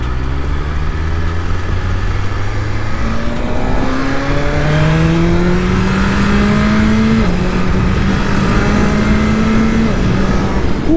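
Engine of a Shelby GT500 accelerating at about half throttle, with quick, seamless gear shifts: a loud steady drone whose pitch climbs in repeated rising steps, alone without talk.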